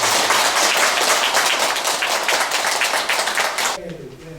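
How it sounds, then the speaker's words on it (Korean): A Buddhist congregation at a Wednesday dharma service gives a monk a loud, dense round of applause that cuts off abruptly near the end, followed by a quiet room. "불자 여러분들께서는 큰 박수로 스님을 환영합니다"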